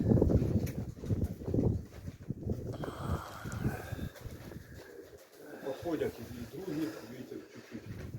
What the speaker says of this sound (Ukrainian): Такі голуби.